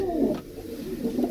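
Sialkoti pigeons offered for sale in Jammu coo in soft, throaty rolling bursts, close and continuous, with faint background noise.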